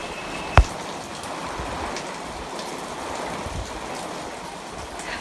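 Steady monsoon rain patters on the leaves of potted plants and surrounding surfaces, a soft continuous hiss with a single sharp click near the start.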